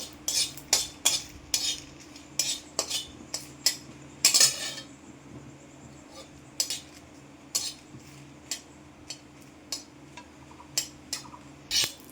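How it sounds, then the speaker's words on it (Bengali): Three or four dry red chillies being dry-roasted in a wok are stirred with a metal utensil, producing repeated sharp scraping clinks in an irregular rhythm over a faint background hum, close by. "কড়ার মধ্যে আমি তিন চারটা মতো শুকনো লঙ্কা একটু টেলে নেবো"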